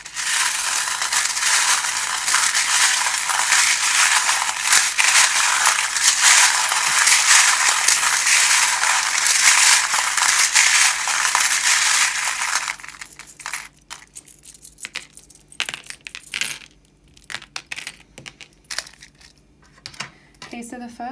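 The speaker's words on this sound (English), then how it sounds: "you might just want to turn it down a bit while I shuffle the charms" Tarot charms are shuffled in a steady, dense clatter of small clinking pieces for about twelve seconds, then settle into scattered, sparser rattles and taps.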